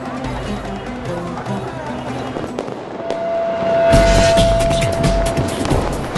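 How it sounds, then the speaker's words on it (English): A public fireworks display in Delhi: booming bursts and crackling firecracker pops, loud and sustained, rising to a denser barrage in the second half against a faint background murmur of crowd and traffic. "Some cities also put on spectacular public displays of fireworks, like this one in Delhi."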